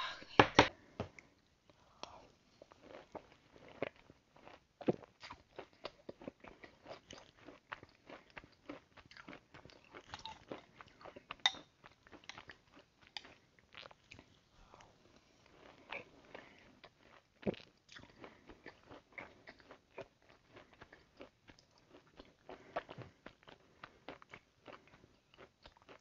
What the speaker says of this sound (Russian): Это у нас суп из крошки.